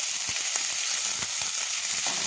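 Spice paste of salt, red chili powder and turmeric sizzles steadily in a hot pan, a continuous close frying hiss with scattered small pops and crackles throughout.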